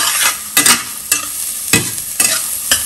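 Chopped garlic and carrots fry in hot oil in a pan while being stirred, with a continuous close sizzle broken by several scraping stirs.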